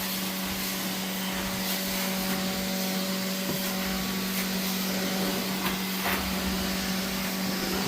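A vacuum cleaner runs steadily on an old carpet during a cleaning job, a loud, continuous motor drone with faint bumps and clicks, and no voices.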